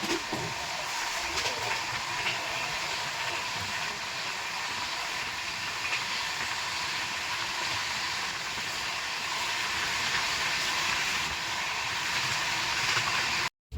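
The 13151 Kolkata–Jammu Tawi express runs at speed, heard from inside as a loud, steady broadband rumble and hiss with faint rhythmic wheel clatter throughout.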